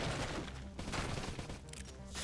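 Dense, continuous gunfire crackles through a Xenoblade Chronicles X battle, layered with game music and combat effects at a steady, loud level with no pauses.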